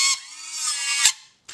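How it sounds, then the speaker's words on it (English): An acrylic burr on a high-speed dental handpiece cuts a hole in an implant impression, making a brief, close, high-pitched whine that dips and stops, then starts again. "I'm just taking my acrylic burr and making that hole"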